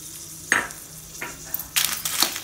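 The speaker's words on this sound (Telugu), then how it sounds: "కొంచెం ఫ్రై చేయాలి." Dried red chillies fry in a pan for curry leaf powder, with a soft sizzle, a few scrapes and clinks of a spatula stirring, and a louder burst of frying near the end, close up.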